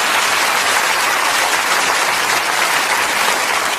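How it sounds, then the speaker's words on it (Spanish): A church congregation breaks into loud, sustained applause, many hands clapping in a thick, continuous wash that holds steady throughout. "denle un aplauso al Señor"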